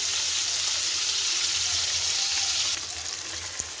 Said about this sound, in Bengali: পনিরগুলো একটু সামান্য হালকা একটু ভেজে নেবো